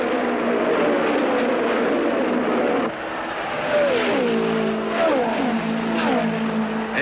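Race cars on the main straightaway of the Brickyard during the 1976 Indy 500, a loud continuous engine roar with several cars passing close in succession, their pitch sweeping down as each goes by.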